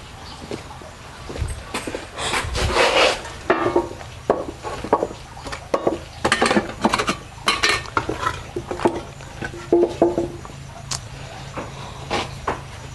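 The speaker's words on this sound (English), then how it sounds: "I'm going to take a level teaspoon of that feed" Metal teaspoon scraping and clinking against a container while scooping dry fish fry starter feed, a series of light irregular scrapes and taps, close and moderately quiet with no talk.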